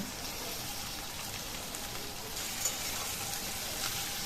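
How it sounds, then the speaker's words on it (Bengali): Carrot, pumpkin, sweet potato, green beans and potato fry in hot oil with a dense, steady sizzle. It holds evenly throughout, with an occasional faint clink as the pieces are stirred. "এবার তেলে ভালো করে নাড়িয়ে নিলাম আনাজগুলো"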